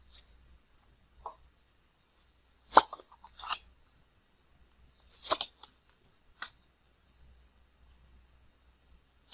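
Tarot cards being drawn and handled during a reading: sparse, faint papery snaps and flicks, a few sharp card slaps among quiet rustles, close and isolated with long silent gaps.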